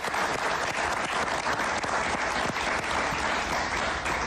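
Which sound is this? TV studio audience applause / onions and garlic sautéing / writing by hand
TV studio audience applause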